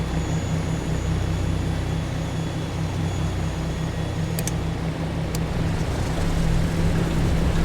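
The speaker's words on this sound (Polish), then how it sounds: "Sprawdzamy, oba silniki pracują." Twin piston engines of a Douglas DC-3 in Microsoft Flight Simulator 2020, both running, a loud, steady close-up drone with a strong low throb and a couple of brief high clicks partway through.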